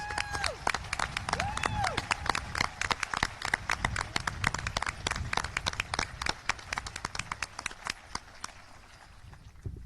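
Audience applause at the 2020 Vanguard High School graduation ceremony: scattered, crisp claps and shuffling under a lingering voice, thinning out toward the end.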